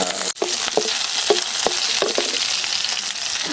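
Garlic and chili fry in hot oil with a loud, dense sizzle, punctuated by a quick scrape and a series of rhythmic spoon knocks against the pan.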